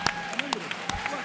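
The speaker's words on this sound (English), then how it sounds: "Guys, give them a round of applause." Audience applause at a press conference, a scattering of separate claps heard close by, over a low steady background with someone talking faintly underneath.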